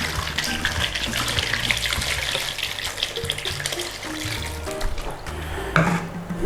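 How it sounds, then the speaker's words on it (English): Potatoes are rinsed under running water from a tap, a steady close splashing and trickling that carries on without a break, with occasional knocks from the potatoes. "Give your potatoes a rinse."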